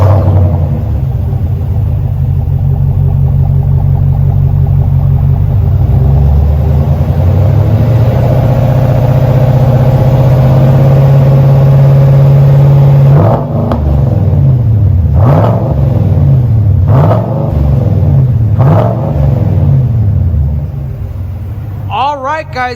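A 2020 GMC Sierra AT4 pickup with a 6.2L V8 and muffler-forward dual exhaust idles with a deep, loud rumble, then revs sharply several times in quick bursts up close.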